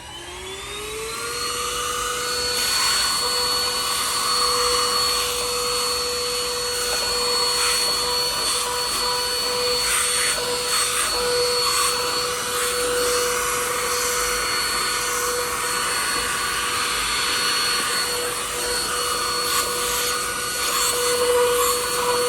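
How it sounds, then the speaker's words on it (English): A UGREEN handheld car vacuum sucking up drywall dust: a loud, steady motor whine that runs throughout, with faint rattles of debris, close by. "I'm gonna take our friend, the UGREEN car vacuum, and I'm gonna see if I can't vacuum up some of this drywall"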